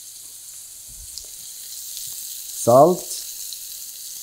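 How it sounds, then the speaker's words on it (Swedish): Chanterelle mushrooms go into a pan and fry quietly in a home kitchen, a faint low sizzle under a brief spoken word. "Och sen ner med kantarellerna. Och de här ska ju steka väldigt snabbt nu."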